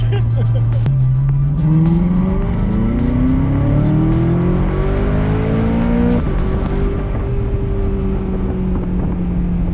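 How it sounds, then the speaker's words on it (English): A loud sports car engine revs hard, its pitch climbing through several gear shifts in rising sweeps, close and powerful. "Nice, isn't it? It's a great sounding car."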